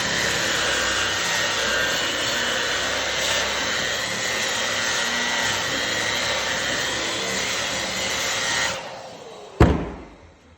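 A Makita wire brush machine scours wooden boards with a continuous, loud whirring rasp that winds down, followed by a sharp clunk as the tool is set down.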